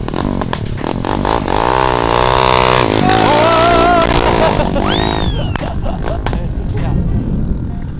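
A tuned Thai motorcycle with three injectors revs hard and rises through its range as it shifts into first gear, loud and close, while engine tones sweep up and down under shouted voices.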